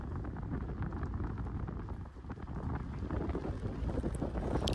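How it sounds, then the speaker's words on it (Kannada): Wind blows outdoors through village plantations, a faint, continuous broadband rush with gusty buffeting against the microphone and no voices. "ಇವಾಗ ಬರ್ತಾ ಇರೋದು ವಿಂಡ್ ಸೌಂಡು, ಅಂದರೆ ಗಾಳಿ ಸೌಂಡು"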